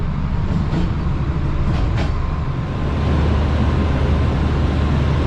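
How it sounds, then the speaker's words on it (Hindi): A train rolls into a railway station and comes to a stop, heard from inside the guard's compartment as a loud, steady rumbling roar with faint rail clatter throughout. "दोस्तों ट्रेन अभी हमारी आके रुक चुकी है"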